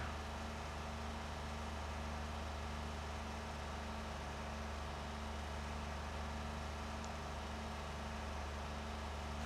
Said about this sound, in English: Car sounds dead in 5th gear.